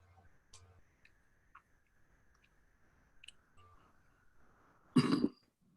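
A single person gives one sharp, close cough near the end of an otherwise quiet room with faint clicks and soft murmurs.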